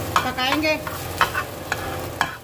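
Fried rice with a little black pepper is stir-fried in a pan, with repeated spatula scrapes and knocks over a soft sizzle, close and fairly loud, in irregular bursts with no talk.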